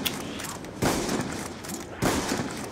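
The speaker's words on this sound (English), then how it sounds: "I just wasted 5 shots on 2 people" Gunfire from a zombies shooter game comes as two loud, heavy shots about a second apart over a steady, noisy game background.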